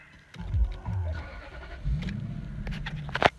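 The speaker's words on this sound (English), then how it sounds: "start the car again" A Lexus or Toyota car engine cranks and catches, then settles into a low idle, close by and moderately loud, with a brief sharp click near the end.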